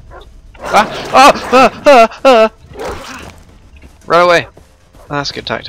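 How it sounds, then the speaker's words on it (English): Dogs bark in the video game Far Cry 3, with a quick run of close barks and yips followed by more, while someone talks over them. "Oh, I hear dogs."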